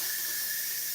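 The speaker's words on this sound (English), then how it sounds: "So I'm going to push the steam release button. It's going to release the steam." Steam vents in a steady, loud, unbroken hiss from the steam release button of a Pampered Chef pressure cooker during a chicken recipe, with a thin whistling edge throughout.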